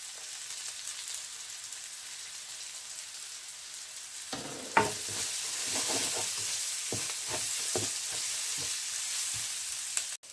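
Curry leaves drop into hot oil and burst into a sharp, crackling sizzle that follows a quieter hiss, then settles into steady frying with scattered pops before cutting off abruptly.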